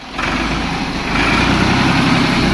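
A 1984 Ford 3610 tractor engine idles in a steady, close, low rumble that holds even and slightly firms up partway through, with no talking.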